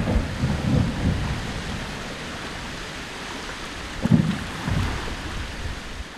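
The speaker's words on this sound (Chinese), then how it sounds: "我们背后听到那个冰震的声音" Ice quakes at the Avatsmark glacier, a 15-kilometre Arctic glacier, rumble like thunder: deep, booming surges that swell and fade, with a stronger crack-like boom partway through, heard alone against a broad windy roar.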